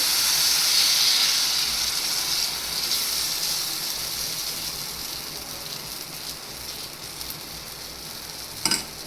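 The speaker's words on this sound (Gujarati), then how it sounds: "તો સૌથી પહેલાં આપણે તેમાં તેલ એડ કરી દઈશું અને પછી આપણા બેટરને એડ કરી દઈશું" Millet flour batter for bajri pudla poured into hot oil on an iron griddle, giving a loud, close hiss and sizzle that slowly fades, with a sharp clink near the end.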